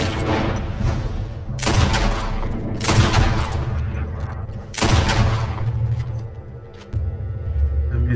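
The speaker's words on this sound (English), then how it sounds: "I missed the first shot." Gunfire in Red Dead Redemption 2, several loud sharp shots cracking out at irregular intervals over a low rumbling game background.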